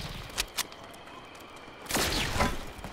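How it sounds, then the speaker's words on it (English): Fortnite gunfire, a couple of faint, distant shots followed by a louder, denser burst of rapid fire with crackling impacts. "I hear shooting"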